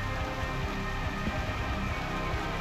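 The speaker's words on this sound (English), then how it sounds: "It's raining." Steady rain falls in the video game Reverse: 1999, a dense, even hiss of drops pattering on a surface, moderately loud and continuous throughout with no talk.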